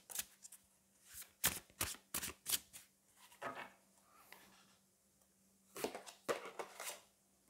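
Tarot cards being shuffled up close: crisp papery riffles and slaps in clustered bursts with short quiet gaps between them, nobody talking.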